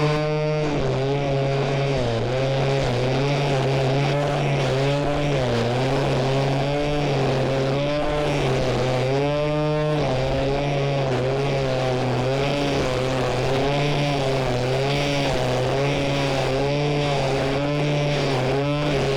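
A gas weed trimmer's small engine runs continuously in a loud, buzzy whine whose pitch rises and falls as the revs shift, close by and steady for the whole stretch, with no voices.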